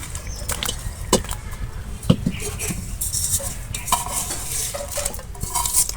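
Fish pieces from a home pond being tossed and mixed with spices and vegetables in a pan, a steady close scraping and stirring with light clatter and faint sizzle underneath.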